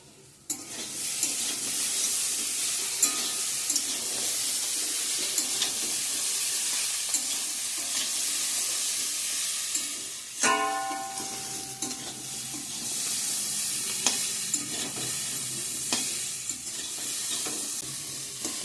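Fish fries in a pan with a steady, close sizzle that lasts throughout, broken by occasional clinks and scrapes of stirring.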